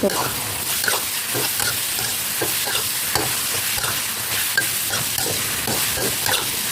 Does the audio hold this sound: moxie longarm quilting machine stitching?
no